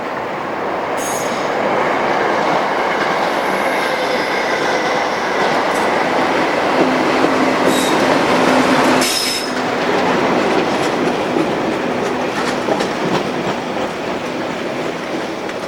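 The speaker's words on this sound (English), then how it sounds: "47283 heads for Wembley with some Freightliner flats." British Rail class 47 diesel locomotive 47283 hauling Freightliner flat wagons past, a loud continuous rumble of wheels on track with faint squeals and clicks, no voices.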